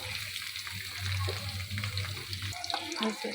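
Onions, green chillies and curry leaves fry in hot oil with cumin seeds for a spicy chicken curry, giving a steady, dense sizzle over a low hum.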